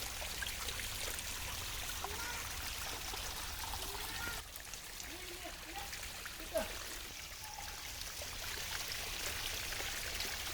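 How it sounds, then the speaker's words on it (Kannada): A rainy-season waterfall at a hometown spot, with water streaming and trickling down steadily as a faint continuous wash. A voice speaks softly over it at times. "ಮೇಲ್ಗಡೆಯಿಂದ ಹರಿಯುತ್ತೆ ಅದು ನೀರು, ಈ ಥರ ಬಂದುಬಿಟ್ಟು ಹೀಗೆ ಬರುತ್ತೆ"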